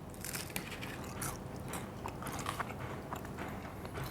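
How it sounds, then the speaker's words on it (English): Crunchy chewing of pizza crust up close, with steady crisp bites and grinding repeating at a moderate pace, no talking. "And that crust is nice and crunchy."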